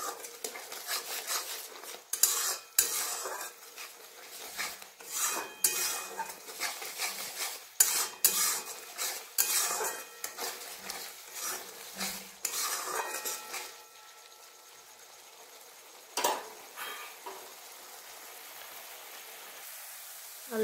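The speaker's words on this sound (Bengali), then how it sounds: "এরপর ভালোভাবে মশলাটা কষে নেব।" Spice masala of cumin, turmeric and coriander powder being stir-fried in a pan for matar paneer without onion or garlic, dense rapid clatter of a spoon against the pan in bursts, fading to quieter scrapes later, close, no talk.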